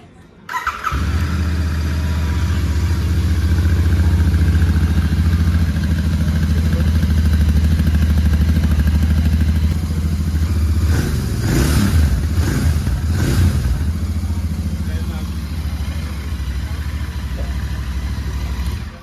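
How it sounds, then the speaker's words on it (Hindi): A GT 650 motorcycle engine fires up and settles into a deep, loud idle, with a few sharp exhaust revs partway through before returning to a steady rumble. "तो एक बार मैं इसे स्टार्ट करता हूँ और जो इसका एग्जॉस्ट साउंड है वो भी आपको चेक कराता हूँ।"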